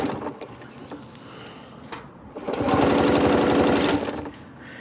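Sewing machine stitching a Celtic knot pattern: a steady, loud run of rapid needle strokes lasting about a second and a half, preceded by quieter mechanical clicks and handling.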